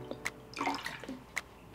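Nine percent vinegar is poured into a small bowl while preparing to dye Easter eggs, making a few close, brief splashes and drips with light clinks.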